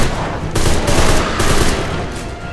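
Enemy sailors open fire in the video game Deadfall Adventures, a loud, continuous burst of rapid gunshots, heavy and close, rattling for a couple of seconds without letup.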